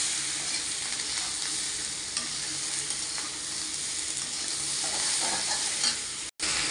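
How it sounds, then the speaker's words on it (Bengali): Ridge gourd and potatoes stirred and fried in a pan, giving a steady, close sizzle with scraping stirs throughout and no talk. "ওই নাড়াচাড়া দেবো 4-5 বার।"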